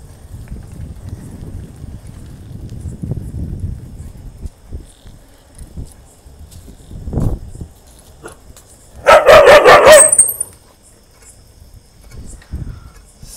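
A short burst of village dogs barking at a passing motorcycle rises clearly for about a second, with faint rustling and scattered noises around it and quieter sounds before and after.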